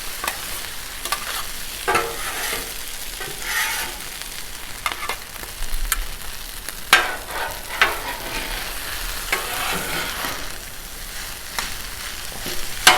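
Vegetables sizzling and being stirred on a hot Blackstone griddle for teriyaki shrimp fried rice, a continuous loud fry with scraping spatula clicks and clacks throughout.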